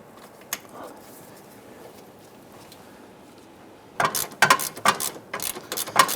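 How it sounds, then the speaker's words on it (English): A bolt being ratcheted down on the power steering line clamp of a 2005-2010 Chrysler 300, heard as a burst of close, quick metallic clicks after several seconds of quiet. "go ahead and snug this bolt down into place"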